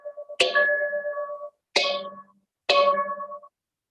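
Three metallic strikes on resonant van hubcaps mounted sideways on foam, each ringing out with a bright, gong-like clang before fading, spaced about a second apart.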